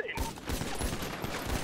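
Rapid gunfire in a GTA roleplay server match, a quick fusillade of sharp shots in an uneven burst rhythm, mid-distance and moderately loud, with game audio underneath.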